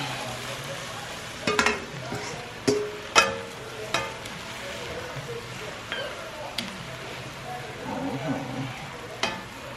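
Turkey sausage and cabbage fry in a pan over a gas flame, giving a continuous sizzle punctuated by several sharp clinks and scrapes at irregular intervals.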